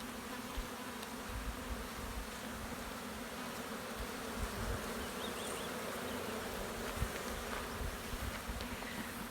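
Honeybees buzz steadily around an open hive while a caged mated queen is introduced with syrup poured around the cage, a dense, even, close swarm drone with no voices.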